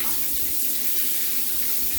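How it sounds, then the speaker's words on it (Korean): A newly installed sunflower-style rain shower faucet in a remodeled small bathroom runs steadily, a continuous close hiss of spraying water with no voices, unbroken for the whole moment. "물잘 나오고요 온수, 냉수, 중간"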